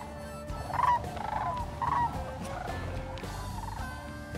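Sandhill cranes flying in over trees during a hunt, giving a few rattling bugling calls in short bursts around one and two seconds, moderately distant over steady outdoor background noise.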